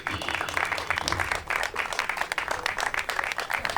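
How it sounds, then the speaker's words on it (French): Crowd applause at an outdoor car show ceremony in Cantal honouring a 2021 Peugeot 3008 with a 4000-watt sound system, steady dense clapping continuing for several seconds with a brief dip midway. "On peut l'applaudir"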